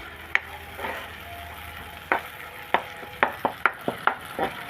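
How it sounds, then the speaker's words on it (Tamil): Small onions sauté in hot oil in a pan for sambar, a low steady sizzle broken by a string of sharp scraping clicks of a spoon stirring against the pan, close and without talk. "எண்ணெயிலே ஒரு 2 நிமிஷம் நல்லா வதங்கிருச்சு."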